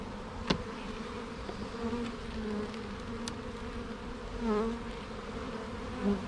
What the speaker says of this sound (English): We can hear all the bees buzzing around us.